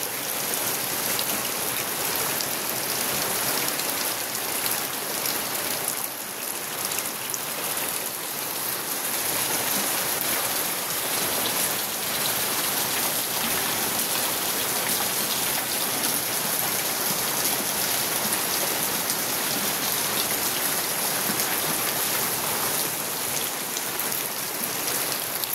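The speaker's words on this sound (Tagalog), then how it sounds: "Maulan din ba sa inyo guys? At malaki yung buo ng ulan." Heavy rain with large drops falls steadily and loudly, a dense unbroken hiss of water striking surfaces that holds throughout without pause.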